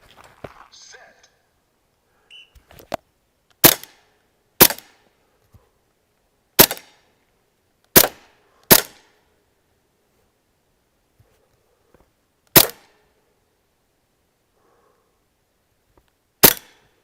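An AR-15 style airsoft or paintball gun firing .43 paint or powder balls indoors at targets 6 to 10 yards away: seven sharp, loud, separate shots spaced irregularly over quiet background.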